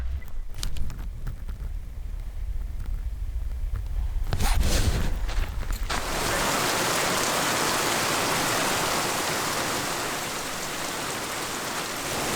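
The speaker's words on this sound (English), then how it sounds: "Our first hail at the house." Hail comes down on a house roof and gutters, a scattered patter that turns into a dense, steady hiss of impacts about halfway through and keeps going.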